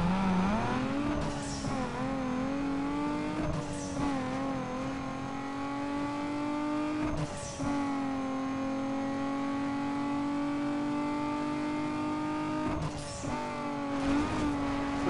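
Racing car engine in the video game Need for Speed Underground 2, loud sustained revving with rising pitch and repeated gear-shift drops, close and continuous.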